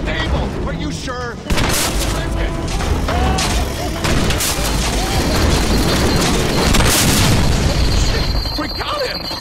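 Repeated booming grenade blasts and popping gunfire in the Deadpool video game on Xbox 360, dense and loud over a busy mix, with a sharp burst near the start and game voices speaking throughout.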